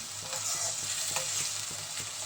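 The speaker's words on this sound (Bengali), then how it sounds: "টমেটো পেস্টটাও দিয়ে দিলাম দিয়ে এবার নাড়াচাড়া করছি" A spatula scrapes and stirs through thick tomato paste and spices in a sizzling pan, with regular scraping strokes over a constant frying hiss.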